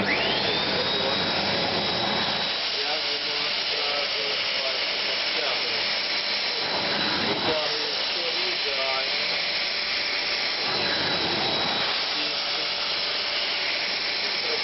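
A Zelmer VC 7920 washing vacuum cleaner pulls water out of a rug, a loud steady high-pitched whine and hiss with surging slurps as the nozzle passes, while a person talks over it.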